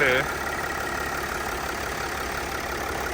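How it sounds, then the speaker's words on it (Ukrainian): A 2012 Mercedes GL 350 with a 3.0-litre diesel engine idles steadily, a continuous low rumble and hum at constant level after a brief louder start, with no speech over it. "Двигун працює ідеально."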